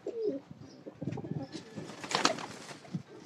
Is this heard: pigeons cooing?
yes